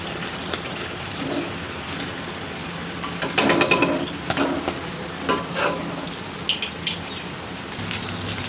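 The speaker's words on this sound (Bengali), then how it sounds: "দুপিটি একদম লাল লাল করে ভেজে নিয়েছি" Rice-flour pitha cakes fry in hot oil, a steady loud sizzle and bubbling with scattered crackles and brief stirring bursts, close and continuous with no voices.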